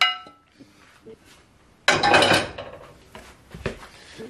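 Quinoa and sweet potato stuffing being mixed in a bowl for vegan stuffed peppers, heard as a burst of scraping and clinking utensil-on-dish sounds after a quiet start, followed by scattered lighter knocks.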